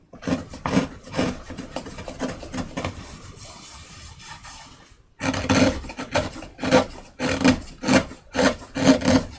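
Chisel paring a high spot off a wooden surface: repeated short rasping scrapes in a steady rhythm, close and fairly loud, with a quieter stretch and a brief pause before the strokes resume.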